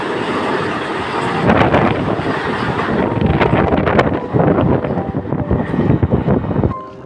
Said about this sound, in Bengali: এখানে আপনারা যে ট্রেনটি লক্ষ্য করতে পারছেন এটি হলো বন্দে ভারত এক্সপ্রেস